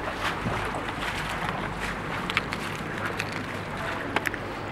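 High tide flood water streams into a garage, rising toward the undercarriage of parked vehicles, a constant rushing wash of water with wind buffeting the microphone and a few faint knocks, no talking.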